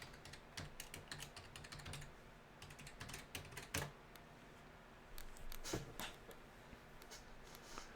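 Someone types a password on a computer keyboard in a quiet room, a quick patter of close key clicks in short bursts with brief pauses.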